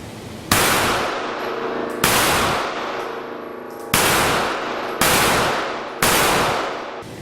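Five loud, sharp gunshots from a CZ 75B pistol fired single action with 115 grain Blazer Brass ammunition, spaced about a second or more apart, each followed by a brief decaying ring.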